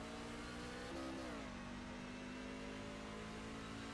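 Racing truck engines rev and surge at the green-flag launch of a Texas truck race in iRacing, a steady mid-pitched engine drone that bends in pitch around the start, with no talking.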